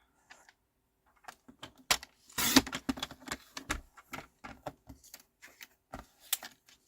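Cardstock being trimmed for cardmaking with a paper trimmer, a run of close, sharp clicks, taps and slides in irregular bursts, with one louder scraping stretch near the middle and quiet gaps between.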